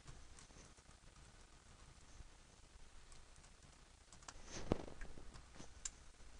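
Keyboard typing during a coding session, heard as faint, irregular clicks and taps running steadily throughout, with a slightly louder burst near the end.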